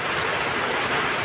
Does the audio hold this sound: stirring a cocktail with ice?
no